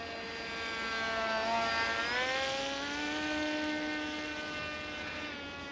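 A cheap RC plane's engine whines high and buzzy as it flies past, pitch sliding down then settling, moderately loud and fairly close with no talking.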